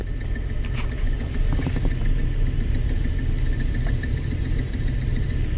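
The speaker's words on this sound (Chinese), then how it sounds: "1号发动机机脚有异响声音" Through a stethoscope clipped to the right-side engine mount of a Mercedes-Benz S500 with the M256 engine, just after a cold start and before the idle settles, a dense, steady mechanical hum carries a faint knocking from the faulty mount.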